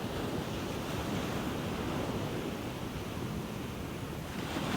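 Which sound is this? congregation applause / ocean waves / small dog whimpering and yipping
ocean waves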